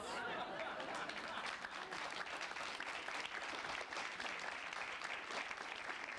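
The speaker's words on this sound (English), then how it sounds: "clap for her now" An audience at a poetry festival breaks into sustained applause, a thick continuous patter of many hands clapping at moderate distance, steady from start to finish.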